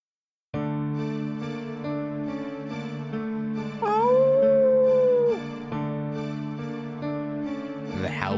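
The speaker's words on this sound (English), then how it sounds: "The howling echoes through the night." Dogs howl at night in the visual novel Tsukihime, a long rising-and-falling howl over a sustained tonal background, loud and drawn out.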